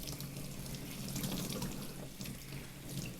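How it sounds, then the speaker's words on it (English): Tie-dyed fabric, grape-coloured, being rinsed, wrung and twisted under a running tap, giving a steady, close splashing rush of water over the sink with no talking. "And I'm just wringing and twisting and rinsing as I go along."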